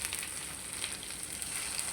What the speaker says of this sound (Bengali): এখন দিয়ে দিই হালকা পরিমাণ পানি।